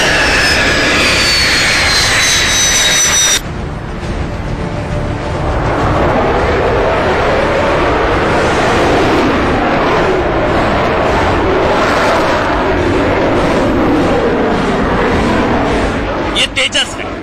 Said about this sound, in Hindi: ये तेजस है, लाइट कॉम्बैट एयरक्राफ्ट की कैटेगरी में आता है।